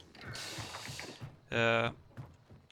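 Metal door in a first-person shooter map grinds open with a creaking, ratcheting mechanical slide lasting under half a second, loud and close, after a stretch of quieter game ambience.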